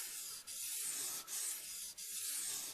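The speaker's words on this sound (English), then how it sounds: "that's straight grinding across the 60 grit stone and resetting the bevel" Knife blade ground across a coarse 60 grit sharpening stone in long, even sweeping strokes, a continuous gritty rasp with three brief pauses between passes, close and steady with no talk.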